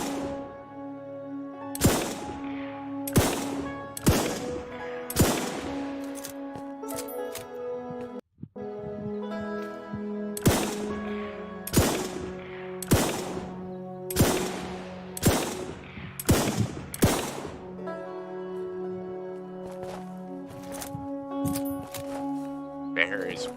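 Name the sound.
repeater rifle shots at a bear in video game Alaska Gold Fever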